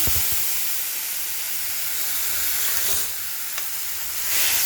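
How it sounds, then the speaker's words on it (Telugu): Tomato paste fries in a pan with fennel seeds and curry leaves while a prawn gravy is being made. A steady, close sizzle hisses throughout, with a soft stirring scrape near the start. "పచ్చి వాసన పోయే వరకు టమాటా బాగా వాడ్చుకోండి."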